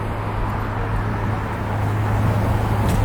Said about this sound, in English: You can hear the rush of the cars going on Park Avenue.